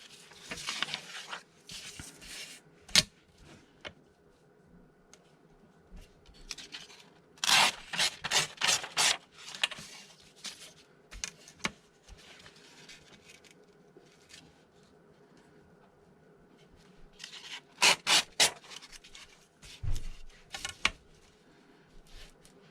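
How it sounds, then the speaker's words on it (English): Paper page edges being trimmed during restoration work on ephemera, heard as irregular bursts of dry scraping and rasping cuts with quiet gaps between, close and moderately loud, with no talking. "I want to trim these pages a bit, quite a bit actually"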